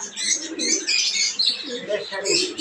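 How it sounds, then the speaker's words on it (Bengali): Pigeons coo and chirp among caged birds at a village market, a busy mix of low coos and brighter twittering with crowd murmur around. "এই যে এই পাশে আরো কবুতর আছে"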